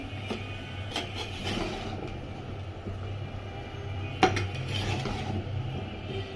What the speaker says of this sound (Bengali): এখন একটু নেড়ে চেড়ে নেই, মিশিয়ে নেই।